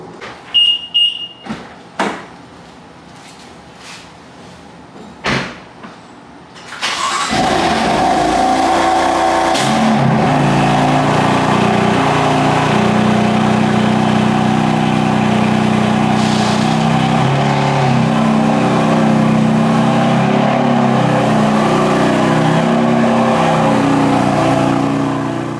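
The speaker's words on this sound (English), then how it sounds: "let's get the car pulled out of the garage and then we'll start putting it to use" A few sharp clicks and brief noises, then a BMW M4 engine starts in a home garage and runs steadily and loudly close by, idling and rumbling without pause.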